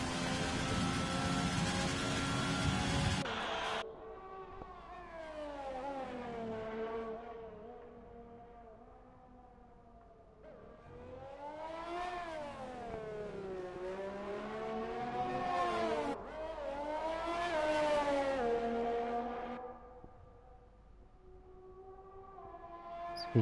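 Formula One race car engine from F1 2020 on a qualifying lap at the China circuit, a loud screaming note that climbs and drops through gear shifts and corners, sweeping up hard twice before fading as it brakes.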